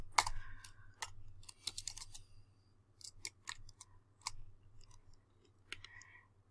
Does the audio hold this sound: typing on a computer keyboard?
yes